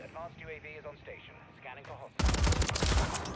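Superi 46 SMG gunfire in Call of Duty MW3, a loud, dense rapid burst cutting in sharply after a couple of seconds of voice, with talking heard before the shots.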